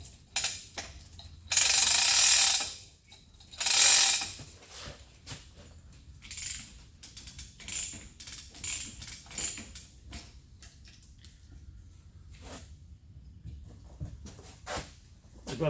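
Come-along hoist ratcheting while lifting a Jung HF50 surface grinder in a workshop, with close irregular pawl clicks and creaks, plus two loud hissing bursts early on.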